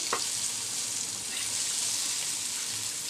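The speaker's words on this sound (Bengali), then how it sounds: "আমি নেড়ে ছেড়ে ভেজে নিয়েছি" Turmeric-dusted eggplant fries in a pan with a constant hissing sizzle close by, with one brief scrape of stirring near the start and no voices.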